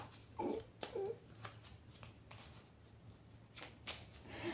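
Tarot cards being shuffled by hand during a reading, a few soft riffling bursts and slaps standing out against a quiet background with a steady low hum.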